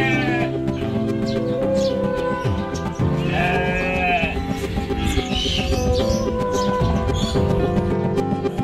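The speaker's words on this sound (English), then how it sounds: "baby alpaca" A baby alpaca in an animal enclosure shared with sheep gives bleat-like calls over a dense, steady mix of background sound.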